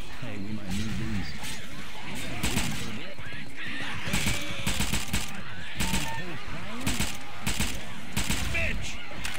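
Rapid gunfire in the zombie shooter Left 4 Dead, bursts of repeated shots crackling loudly throughout over dense game noise and effects, with voices mixed in.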